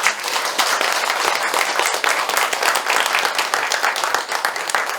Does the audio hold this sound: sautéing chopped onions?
no